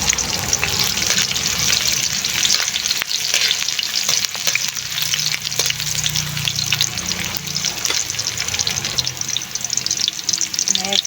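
Onion frying in a pan for a sardine dish with patola and miswa, giving a steady, dense sizzle with stirring clinks throughout, close and fairly loud.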